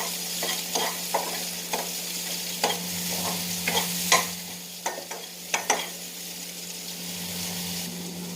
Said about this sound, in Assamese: সৰিয়হখিনি অলপমান তেলতে ভাজি ল'ব